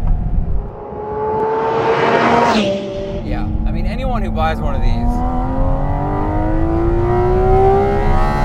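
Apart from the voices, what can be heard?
Porsche Cayman GT4 RS engine revving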